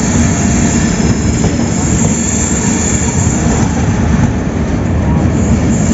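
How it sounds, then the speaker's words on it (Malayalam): A Janshatabdi Express passenger train arriving at a station in Kerala rumbles loudly and steadily close by, a continuous heavy roar of rolling rail cars with faint clattering throughout. "നോർത്ത് ഈസ്റ്റേൺ റെയിൽവേ ഓപ്പറേറ്റ് ചെയ്യുന്ന ഒരു വണ്ടിയാണിത്"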